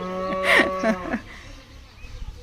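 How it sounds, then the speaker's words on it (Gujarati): A cow lets out one loud, close moo at milking time on a Gujarati family farm where cows and buffaloes are kept, then the barn settles into quieter shuffling. "હવે તૈયારીઓ થઈ રહી છે ગાય ભેંસો દોવાની"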